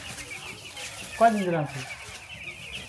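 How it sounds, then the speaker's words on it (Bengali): Medium-sized ten-day-old chickens on a poultry farm cluck in a short burst of calls, with a person speaking nearby and soft background chatter from the flock. "এটা হচ্ছে মিডিয়াম সাইজের মুরগিগুলো"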